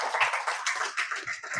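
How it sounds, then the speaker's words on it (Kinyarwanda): Audience applause at an event honouring community work, a dense burst of clapping lasting under two seconds with uneven swells and no voices. "tubanze tugukomera amashyi"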